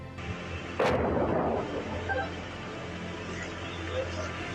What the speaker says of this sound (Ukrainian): Східні та південну частину Бахмута трощать артилерія ворога